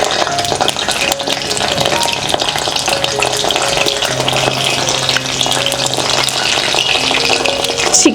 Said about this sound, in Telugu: ఇప్పుడు ఈ చికెన్ సెకండ్ టైం ఫ్రై చేసుకుందాం.